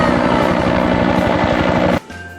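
A toy helicopter whirs with a fast, loud rotor chatter for about two seconds, then cuts off abruptly, leaving a quieter hum.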